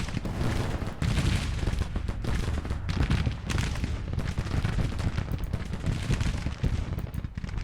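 Massed musket volleys and gunfire from Civil War infantry units in the Grand Tactician strategy game, a dense continuous crackle of overlapping shots with heavy booms, loud and sustained throughout.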